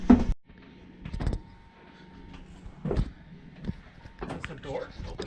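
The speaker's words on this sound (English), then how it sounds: "That's the door. Opens and closes." The crew door of a Halifax bomber is opened and shut, giving a few clunks and rattling knocks set among people talking inside the hollow fuselage.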